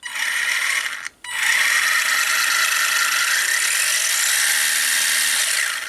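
A small motor and servo in an HBX 18859 1/18-scale RC racing truck whir steadily with a gritty, ratcheting gear buzz. It stops briefly near the start, then runs on continuously, close and fairly loud.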